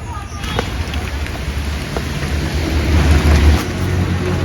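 A steady roar of heavy rain fills the scene, with low rumbling underneath and a voice talking over it.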